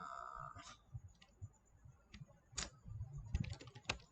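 Quiet typing on a computer keyboard while coding a Node.js tutorial: scattered individual keystrokes and clicks at first, then a faster burst of close key taps toward the end, with no talking.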